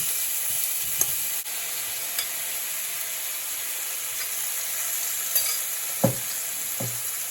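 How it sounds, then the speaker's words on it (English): Mushrooms stir frying in a very hot pot on the stove, a steady loud sizzle and hiss throughout with occasional scrapes of stirring, no voices. "So I'm just quickly going to stir fry my mushrooms here."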